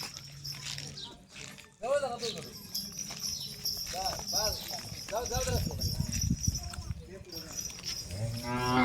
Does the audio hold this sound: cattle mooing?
yes